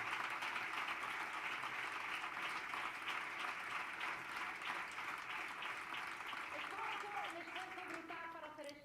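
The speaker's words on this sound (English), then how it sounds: "let's have a round of applause for all of the speakers today and the 30 social entrepreneurs from all over the world" Sustained applause from a large conference audience in Bilbao, honoring speakers and social entrepreneurs at a tech-for-humanity summit, a dense steady wash of clapping that thins slightly toward the end with a few scattered tones.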